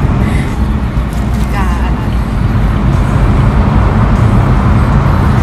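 A car drives along a road in the Finnish city of Turku, its steady engine and road rumble filling the whole stretch with constant, fairly loud noise.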